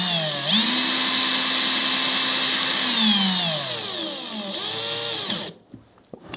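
A Makita 18V LXT brushless cordless 1/2-inch hammer drill (XPH07) whines at high speed, its motor pitch dipping and rising as it runs for several seconds, then winds down to a few clicks.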